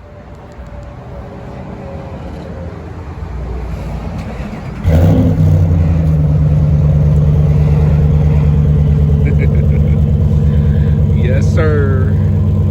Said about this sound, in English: See, a lot louder. That Super 44 is sounding real good.